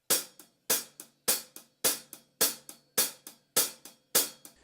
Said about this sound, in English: Often this is called tip shank, where you play with the shank of the stick and the tip